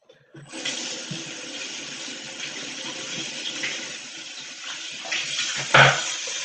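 Water running steadily from a tap or shower while someone rinses off, a continuous close hiss and splash with a brief clatter near the end.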